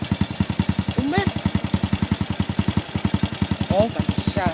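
A motorcycle engine idles close by with a steady, rapid putter and a few slight throttle changes, while people talk over it outdoors at a farm.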